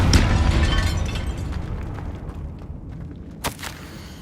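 A Confringo fire-blast spell explodes in the Hogwarts Legacy video game, opening with a loud booming burst that rumbles and fades over several seconds, then a second sharp crack and small pops near the end.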